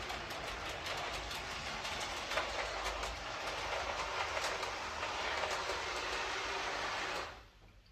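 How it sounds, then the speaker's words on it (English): A DC model train shuttle runs out of a tunnel into a siding and stops at a platform, giving a steady close rail rumble with faint clicking that continues evenly before cutting off abruptly near the end. "And come out the tunnel and into the siding, and it should stop at the platform."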